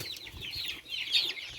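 Upgraded native chickens kept as pets on a rural farm, a cluster of soft, high chirping clucks heard fairly close, brief and overlapping, with no talk.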